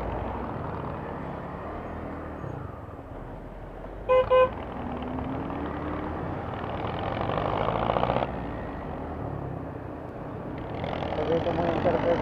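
Heavy road traffic at an intersection in Dasmariñas rumbles steadily while a car horn gives a sharp double toot partway through, with engine noise swelling and passing close by and a voice talking over it.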